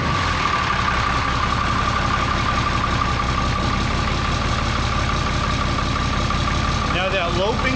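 A Ram 3500 diesel truck engine idles steadily with a rhythmic, loping pulse, running continuously and close by throughout.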